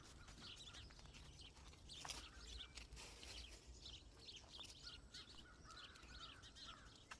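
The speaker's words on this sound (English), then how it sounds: "Always wildlife havens, these churchyards, aren't they? Twitter of birds" Birds twitter in a Derbyshire village churchyard, faint scattered chirps and calls over a soft outdoor background with a low insect-like hum.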